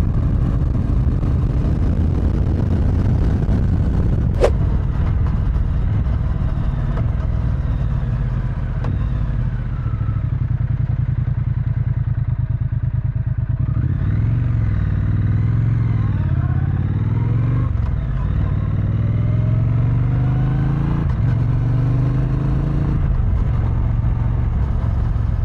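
A 2025 Triumph Speed Twin 1200 RS motorcycle rides steadily with a loud, close, low engine drone, wind rumbling throughout, and the engine note rises and falls through gear changes in the second half.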